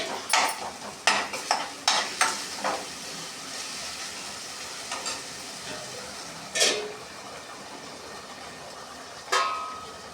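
Food frying in a pan, a low continuous sizzle broken by several sharp utensil clacks early on and two louder spatters later, with no speech.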